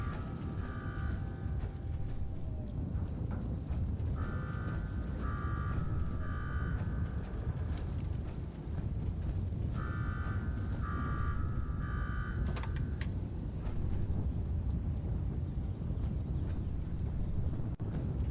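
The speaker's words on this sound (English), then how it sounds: "That shut off the damn" A car alarm blares in the video game Fallout 76, its repeated electronic tones pulsing in bursts over steady, loud background noise and wind.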